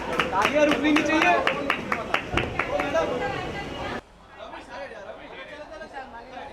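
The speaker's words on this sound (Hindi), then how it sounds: "तालियां रुकनी नहीं चाहिए।" Audience at a sangeet wedding ceremony clapping in a quick burst of overlapping claps while voices chatter loudly over it, then the applause and babble drop to a quieter murmur.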